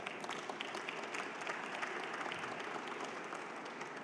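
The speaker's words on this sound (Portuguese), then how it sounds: "Essas palmas são para vocês" A press-conference audience at the Brazil Windpower 2023 event claps steadily for Petrobras and WEG, a dense, even applause that holds at moderate level without a break.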